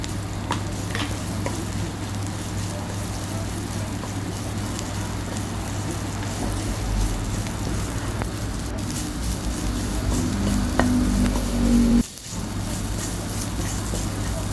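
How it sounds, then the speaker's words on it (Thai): Red curry paste stir-fried in hot oil for pork panang: a continuous close sizzle with rain-like crackle and a steady low hum, broken by a brief dip and a clunk near the end. "ใส่พริกแกงลงไปผัดให้หอมก่อนค่ะ"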